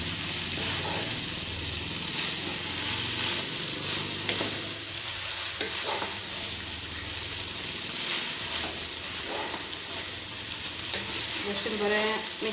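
Vegetables being stirred and mixed in a large pot for Goan chav chav, with steady scraping and sizzling throughout and a few sharper knocks of the spoon against the pot near the end.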